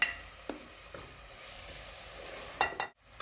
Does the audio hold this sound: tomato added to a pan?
yes